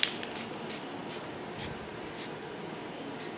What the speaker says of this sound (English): So I grabbed a shimmer spray of Tangerine Dream, and I'm just going to spray this on here.